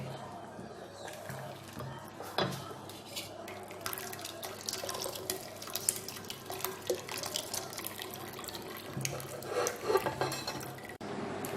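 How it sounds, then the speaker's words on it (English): Caramelized corn drink being poured through a sieve, a continuous liquid trickle with clinks of utensils and pots and a few stirring and scraping knocks, close by and without speech. "So we sieve the rest of it"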